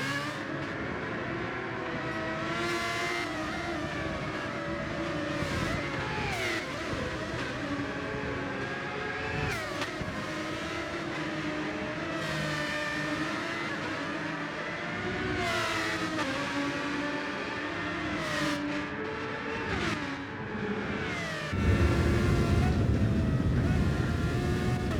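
Race car engines at Brands Hatch in a racing video game, a steady loud engine drone rising and falling with gear changes and revving, continuous throughout, ending in a louder rougher roar.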